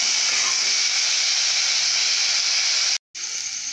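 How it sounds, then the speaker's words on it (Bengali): Potatoes deep-frying in hot oil for a puti fish dish give a steady, loud, close hiss that cuts out briefly near the end, with no talk. "প্রত্যেকটা আলু লাল করে ভেজে নেব।"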